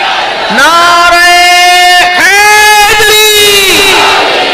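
A large crowd at a religious gathering commemorating the martyrs of Karbala shouts a religious slogan in unison, loud, drawn-out voices rising and falling in two or three sustained chant bursts.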